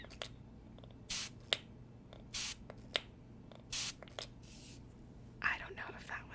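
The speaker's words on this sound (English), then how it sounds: "Should I spray something" A spray bottle gives several short, close spritzes spaced a second or so apart, with soft whispering and quiet handling sounds between them.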